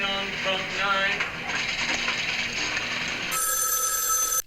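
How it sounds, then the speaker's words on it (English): A telephone rings loudly and close, a steady electronic trill that shifts to a higher-pitched ring partway through. "The phone!"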